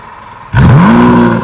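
A 740 hp V12 Lamborghini Aventador S with a single-clutch gearbox fires up from cold. After a quiet moment a loud, abrupt bark bursts out and quickly rises in pitch, then holds as a steady, high-revving roar up close.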